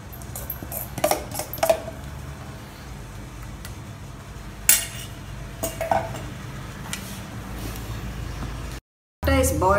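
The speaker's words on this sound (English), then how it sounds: "Now you can pour out this idli batter into the molds." Stainless idli molds and pans clink several times in a kitchen as wheat rava idli batter is poured in, with sharp metallic taps scattered among quieter handling noise and a brief dropout near the end.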